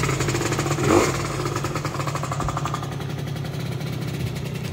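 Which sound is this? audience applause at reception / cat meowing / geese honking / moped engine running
moped engine running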